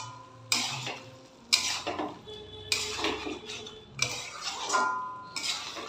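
A utensil scrapes and clinks against a metal pot as food is mixed, with repeated sharp knocks roughly every second over a steady low hum, close and fairly loud.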